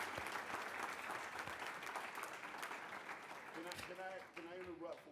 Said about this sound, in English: can we just please give them a round of applause